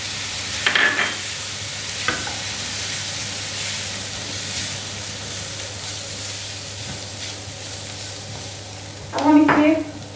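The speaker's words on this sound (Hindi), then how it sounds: "हम इसमें थोड़ा थोड़ा करके दूध शामिल करते जाएंगे और चम्मच चलाते जाएंगे।" A spoon stirs flour in a pan for chicken bread patties, giving a steady close scraping and soft sizzle throughout, with a louder burst of clatter near the end.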